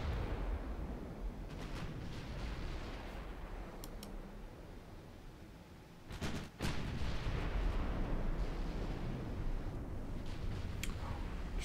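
Heavy 13-inch naval guns firing in a dreadnought-era sea battle game, a dense continuous rumble of booming shots with a sharp loud blast near the middle, no voices.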